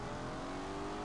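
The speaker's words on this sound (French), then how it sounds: "Drifting with the traction control off." A car drifts with traction control off in The Grand Tour game, its engine a loud, steady, close roar with no voices.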